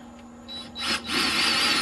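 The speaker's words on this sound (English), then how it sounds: "I'm going to take these screws and sink them, one on each side." Cordless power drill driving screws into an RV step plate near metal flashing, a rising whine that spins up, drops briefly and then runs steadily at close range, with no talk over it.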